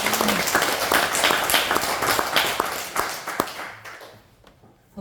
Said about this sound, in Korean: 저 힘나게 박수 한번 쳐주세요